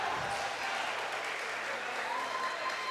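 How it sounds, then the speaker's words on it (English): Spectators at a charity volleyball tournament in a gym make a continuous wash of clapping and cheering, moderately loud and even throughout, with voices blended into the crowd noise. "Lots of cheering going on for the troop"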